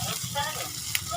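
Corn kernels hit a hot pan in a steady, close sizzle with soft frying crackle over roughly a second, fairly quiet.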